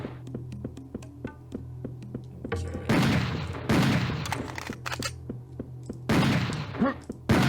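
Rapid, evenly spaced gunshots from a weapon in the Serious Sam video game on the Eluvatuacan level, a steady close volley interrupted by loud rumbling explosive bursts that swell and fade.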